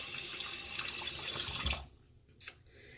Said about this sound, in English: So I'm just rinsing my fingers.